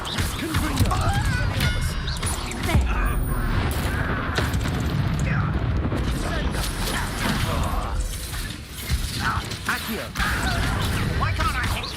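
Confringo spell blasts in a wizarding video game, repeated booming and clanging bursts over a busy mechanical din, with a player talking throughout.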